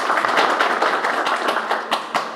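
An audience at a village civic felicitation for Gholap claps to welcome a guest, producing dense, fairly close applause with sharp individual claps standing out before it tapers slightly at the end.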